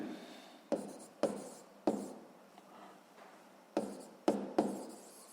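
Pen strokes scratch across paper while a physics problem is worked out, a series of quiet, rhythmic scribbles, each starting with a sharp tap and trailing off, close and alone.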